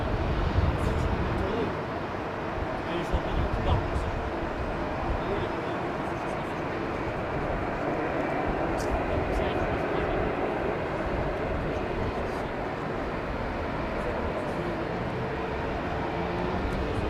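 An old El Al airliner departs Heathrow Airport in the evening, its jet engines making a steady, broadband roar that holds at an even loudness throughout.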